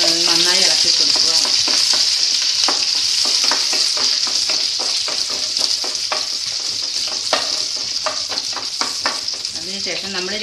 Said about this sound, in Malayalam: നീളത്തിൽ അരിഞ്ഞു വെച്ചേക്കുന്ന മൂന്ന് പച്ചമുളക് ഇട്ട് നന്നായി പച്ചമുളക് അരിഞ്ഞ് നന്നായി ഇളക്കി കൊടുക്കുക.